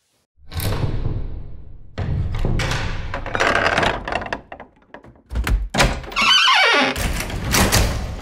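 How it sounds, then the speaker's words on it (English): A quick succession of door sounds from a sound effects library: heavy thunks and thuds of doors slamming and closing, with latch clicks, creaks and a sliding rattle, loud and close with brief gaps between. "Doors."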